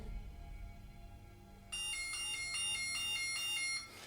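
A motion-triggered alarm on a historic county jail staircase starts abruptly and sounds a loud, steady pulsing electronic tone for about two seconds before cutting off, over low room hum.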